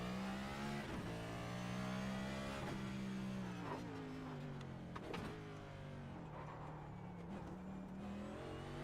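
A race car engine in a racing video game drones steadily through the whole stretch, its pitch rising and falling as it revs and drops through gear changes into first for a turn, loud and alone with no talking.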